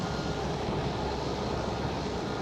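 A KLM Boeing 777-300ER departing Schiphol gives off a steady, fairly quiet broadband jet roar, heard alone over a few seconds.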